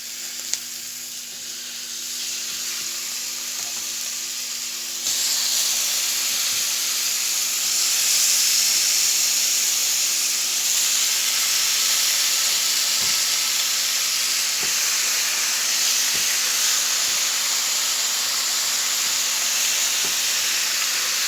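Chicken pieces hit a hot pan over caramelized onion and spices on a home gas stovetop, giving a steady, loud broadband sizzle that swells after a few seconds and holds with faint stirring ticks.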